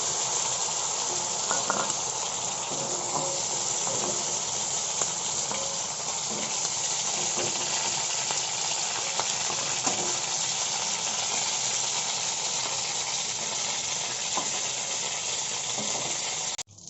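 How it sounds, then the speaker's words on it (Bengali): Shrimp fry lightly in oil, giving a continuous, dense sizzle close up, loud and even throughout with a few soft taps, ending abruptly; no one speaks. "চিংড়ি মাছটা আমি হালকা করে ভেজে নিয়েছি, এবার আমি মাছটা তুলে নেব"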